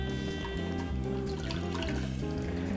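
A pink lychee cranberry martini pours through a cocktail strainer in one short, continuous splashing trickle, close and clear over a steady tonal hum.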